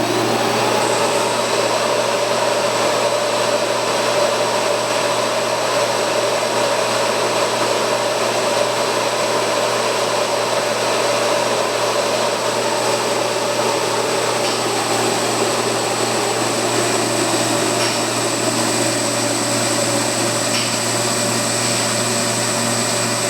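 Diesel injector test bench running a pressure and leak test on a Bosch injector with calibration fluid, giving a loud, steady mechanical hum and whine that holds level throughout with no talking.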